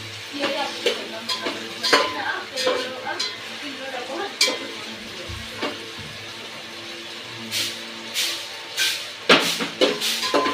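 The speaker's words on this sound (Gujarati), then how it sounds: "હવે આ ડુંગળી શેકવી પડશે" Onions being fried and stirred in a pan over a full gas flame for vegetable khichdi, a steady close sizzle broken by repeated scraping strokes of a spoon against the pan.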